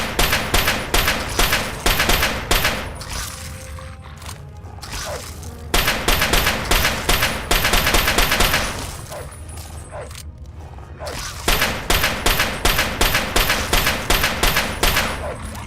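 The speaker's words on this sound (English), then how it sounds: "Use this Chinese pistol." Chinese pistol fire in the video game Fallout 3: rapid bursts of sharp, loud shots, repeated several times with short pauses between volleys.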